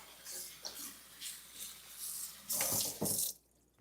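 Water running into a kitchen sink while greens are washed, splashing and gurgling unevenly with louder gushes near the end before the flow stops, close and without talk.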